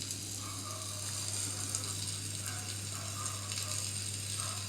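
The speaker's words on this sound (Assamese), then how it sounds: "এতিয়া ভালকৈ লৰাই দিব লাগিব, মিঠৈখিনি মিলি যোৱাকৈ লৰাই আছোঁ" Raw mango pickle with sugar being stirred in a pan, a steady close sizzle with faint scraping and clinking of the spoon against the metal, continuous and unbroken, with no voices.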